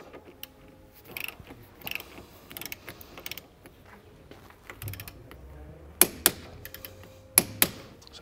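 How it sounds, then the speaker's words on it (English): A ratchet tightens the tie rod ball joint nut during a steering rack replacement on a BMW 3 Series such as an E92 328i or 335i. Sparse light clicks lead into a few sharp metallic clacks near the end, close and alone. "this is when you're going to tighten the gaiter on the tie rod and your tie rod ball joint nut"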